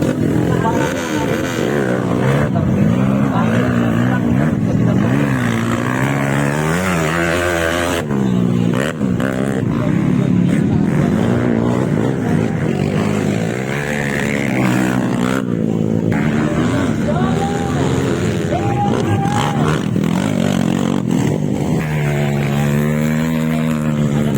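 A KLX motocross bike at a dirt-track race final in Tanjung, Makassar, South Sulawesi, its engine held at high revs with a loud, continuous buzzing drone that rises and dips in pitch, close and sustained.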